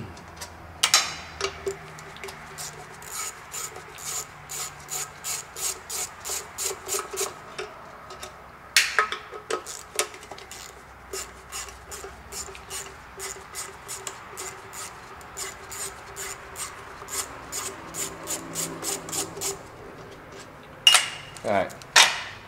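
A ratchet wrench clicks in quick regular runs as 10mm bolts come off a Jeep 4.0 throttle body, the metallic ticking steady and close with short pauses and a few clunks between runs.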